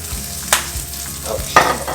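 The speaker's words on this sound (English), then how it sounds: "I have to put some more oil because I still need to put my onions in here now." Onions frying in oil in a pan for an omelet, a continuous close sizzle with a few louder scraping bursts as they are stirred.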